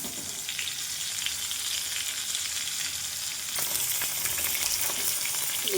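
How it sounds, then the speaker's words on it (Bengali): Sliced pointed gourd (potol) fries in hot oil for a veggie potol korma, giving a steady, close, even sizzle that grows slightly louder and busier partway through, with no voices. "পটলটাকে লাল লাল করে ভেজে নেব।"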